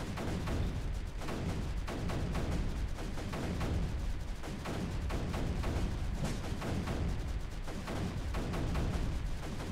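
Mortars and cannons firing in Creeper World 3, dense rapid volleys of thumping blasts packed together continuously and loud, without talk.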